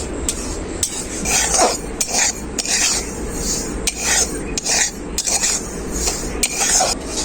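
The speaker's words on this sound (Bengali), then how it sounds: "সুজিটাকে আমি হালকা করে ভেজে নেব" Semolina lightly dry-fried in a wok, stirred with a utensil in steady, rhythmic scraping strokes, roughly one every second, close and clear, with no voices.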